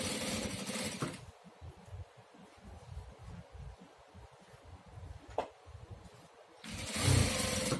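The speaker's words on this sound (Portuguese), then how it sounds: "Começo a minha costura, dou um retrocesso e sigo costurando." Sewing machine stitching a strap on a school backpack, short loud bursts of running at the start and end with quieter rattling and handling sounds between, no talking.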